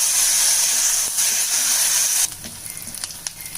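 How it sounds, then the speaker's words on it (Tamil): Small onions, ginger, garlic and curry leaves sizzle in a pan for parotta salna, a loud steady frying hiss that drops quieter partway through, with a few light taps and stirs after. "இதெல்லாம் சேர்த்து நல்லா நம்ம வதக்கிக்கலாம்"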